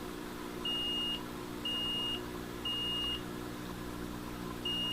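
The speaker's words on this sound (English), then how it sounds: "It beeps like a fire alarm." A Simon XTi security system control panel beeps high-pitched like a fire alarm, in evenly spaced pulses, four times, each about half a second long, over a quiet hum.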